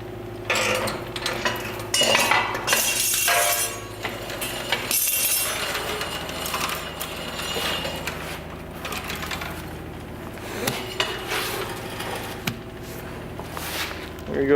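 A BMW E36 subframe is lowered out from under the car, giving a steady run of metallic clinks, scrapes and knocks close by. Faint talk sits underneath.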